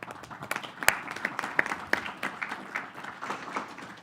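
An audience applauds at a UN commemorative event, steady scattered clapping from many hands with a few sharper individual claps standing out, moderately loud across the whole stretch.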